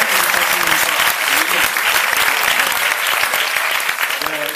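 Dense, sustained applause from an audience at a film preview screening, steady clapping throughout at a loud, close level.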